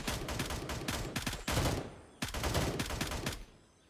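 Gunfire in the video game Gray Zone: rapid bursts of automatic shots crack out close and loud in two volleys with a short pause between, each tailing off into echo.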